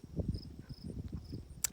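Crickets chirp by a peaceful lake, their high thin trills faint and steady in the background beneath low rumbling handling noise, with one brief sharp click near the end.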